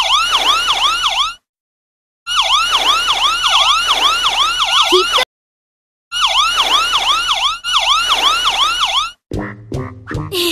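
A fire engine siren from the Doc McStuffins video game wails loudly in repeated rising-and-falling bursts, separated by short silences, followed by a few brief tonal game sounds at the end.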